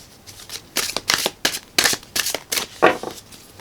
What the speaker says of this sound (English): Oh, let me shuffle this way.